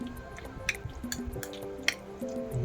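A ham, egg and sliced mozzarella sandwich filling is stirred in a bowl, giving soft wet squishes and small clicks of the utensil, close and quiet over a faint background hum.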